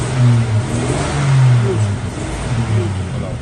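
A 1959 Rover 75 engine revs at close range, its low rumble rising and falling in steady swells across the whole stretch.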